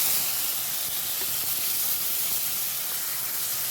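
Nigella seeds and a ground spice paste sizzle in hot leftover oil for a Bengali fish curry with pointed gourd, a steady, loud hiss that stays even from start to finish.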